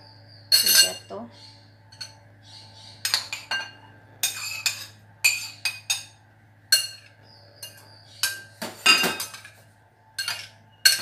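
Small cucumbers being stirred in a container for Indonesian-style cucumber pickles, giving a series of irregular clinks and scrapes of utensil against the vessel over a steady low hum, with a brief voice in between.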